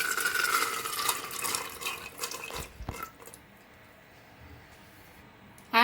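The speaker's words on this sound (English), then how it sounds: "Add little water." Water poured into a pot of potatoes and peas for pressure cooking, a gentle splashing pour for a few seconds that stops, leaving near quiet before a brief clatter at the end.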